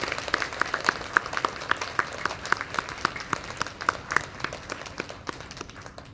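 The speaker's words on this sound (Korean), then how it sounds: "우리 아버지들을 위해서 박수로 한번 격려하도록 하겠습니다" A congregation at a Sunday church service claps for the fathers. The claps are crisp, irregular and moderately loud, scattered across the room, and keep going for several seconds.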